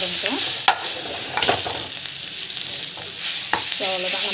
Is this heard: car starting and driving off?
no